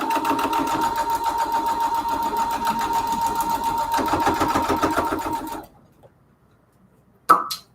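A sewing machine stitches a foundation paper pieced quilt block in a steady, close, fast-running whir for over five seconds, then falls silent before a brief sharp clunk at the end.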